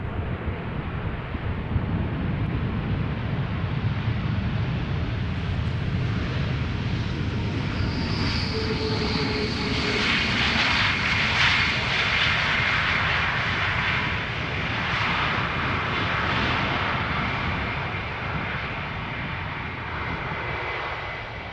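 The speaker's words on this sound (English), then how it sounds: "A321 arriving from Istanbul. Now touching down." An Airbus A321 airliner arriving from Istanbul touches down at Amsterdam Schiphol Airport, a loud, sustained broadband engine roar with a rising whine midway through, steady over twenty seconds amid some wind buffeting.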